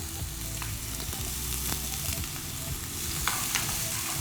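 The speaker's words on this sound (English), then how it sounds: "We're going to saute some garlic and some onion." Garlic and onion sauté in soybean oil with a steady close sizzle, broken by light scrapes and taps of stirring throughout; no one speaks.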